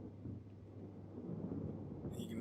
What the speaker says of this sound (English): You can hear the thunder probably.